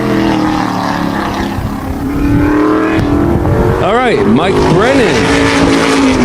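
Wall Stadium modified race car number 15, sponsored by Brennan Brothers Contracting, roars loudly at full throttle during qualifying, engine pitch climbing and dipping through repeated revs, with an announcer talking over it.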